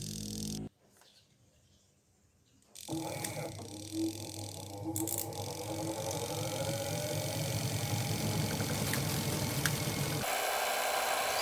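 A Panasonic automatic washing machine, modified for manual control, runs its spin dryer with a steady mechanical hum and rumble that builds after a brief quieter stretch and continues evenly.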